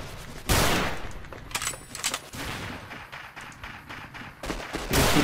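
Gunfire in the video game Fallout New Vegas comes as a loud burst of shots at the start, then scattered quieter rapid shots and game noise, with another loud hit at the end.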